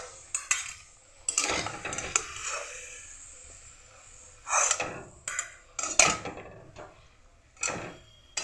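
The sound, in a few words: fried pieces being lifted out of the pan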